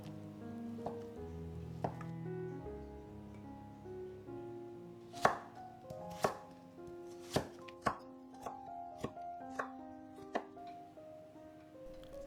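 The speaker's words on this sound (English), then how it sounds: "Lots of cutting, and finally the spring onion." A knife chops vegetables, deep-fried tofu and spring onion on a board, giving a run of crisp, evenly spaced knocks that start sparse and grow steadier over soft background music, with no talking.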